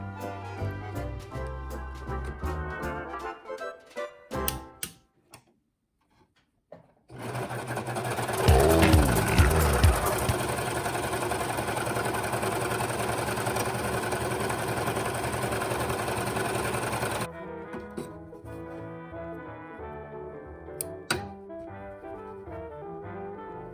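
A Brother 1034dx serger stitches scrap fabric in a loud, continuous rapid mechanical hum lasting about ten seconds, framed before and after by scattered clicks, handling sounds and quiet gaps.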